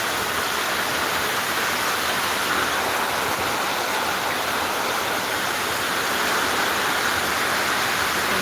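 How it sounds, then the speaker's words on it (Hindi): Heavy rain pours down in a dense, unbroken roar that stays loud and even throughout, with no voices. "एकदम बढ़िया झमाझम झटका भैया पानी बरसता है।"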